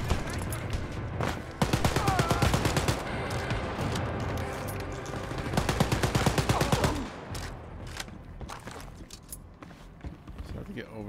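Rapid bursts of automatic gunfire in the shooter game Wolfenstein Youngblood, two long dense volleys of fast repeating shots, loud and close, with scattered single shots and clatter trailing off, a voice speaking over parts of it.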